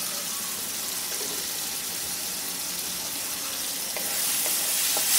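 Tomato rice with green chilies sizzles and bubbles as it is stirred in a pan, a steady close hiss with a few distinct utensil taps near the end, where the frying swells louder; no one speaks.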